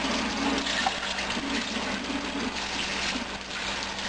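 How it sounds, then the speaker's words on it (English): Running water gushes steadily as the main unit of an Omega 8006 juicer is rinsed under a tap, a loud, even stream throughout with no speech. "Just rinse that out."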